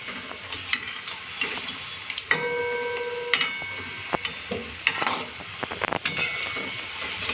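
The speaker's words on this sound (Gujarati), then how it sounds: "આપણે આગળ પડતું મોણ લીધું છે એટલે અંદરથી ફ્રાય સારી રીતે થઈ જશે." Rajasthani baati fry in oil with a soft, steady sizzle, broken by occasional clinks and scrapes of a utensil against the pan and a brief tonal squeak.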